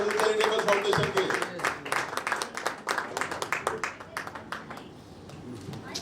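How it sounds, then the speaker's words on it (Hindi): Applause welcoming a guest from the Moon Charitable Foundation at a Women's Day event, with dense clapping from the start that gradually thins and fades, mixed with voices and a brief tone early on. "जोरदार तालियों के साथ स्वागत करेंगे"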